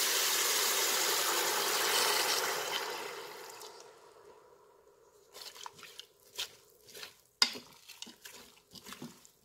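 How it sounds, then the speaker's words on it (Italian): Water pours into fresh minestrone in a Cookeo pot as a steady rushing splash for several seconds. Light clinks and knocks of utensils against the pot follow. "Vado a versare anche un po' di acqua."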